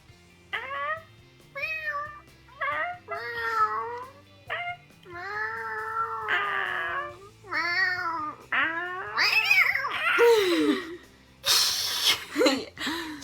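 A person imitates a cat with a rapid run of about a dozen nasal, rising-and-falling meows, ending in louder strained yowls and breathy hiss-like bursts, close and clear.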